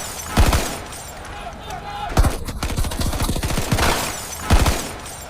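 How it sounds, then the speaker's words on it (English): Bursts of gunfire tear into a car during a political assassination in Ikoyi, Lagos: loud sharp volleys at the start, middle and end, with rapid automatic rattling between them and shouting voices underneath. "Within moments, gunfire tore through the car."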